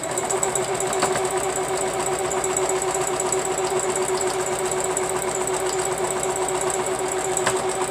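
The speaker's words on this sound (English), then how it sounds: "let's get back to sewing this one down. And having fun with making a quilt." A sewing machine stitches a quilt with a continuous, fast mechanical whir and rapid rhythmic clatter. It runs steadily and up close for the whole stretch with no talking.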